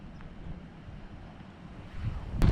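Gusty wind driving rain across the microphone on a stormy loch-side hike, low and blustery, building louder toward the end with a sharp buffet.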